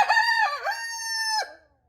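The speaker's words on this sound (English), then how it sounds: "he actually doesn't crow that much, except when I'm sitting right next to him" A single rooster crows once, loud and close, a drawn-out cock-a-doodle-doo that falls away into silence.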